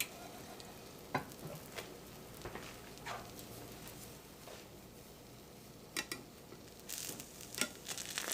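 Ramen omelettes sizzle quietly in a frying pan just after being flipped, a faint steady crackle with a few soft clinks and scrapes of a utensil against the pan.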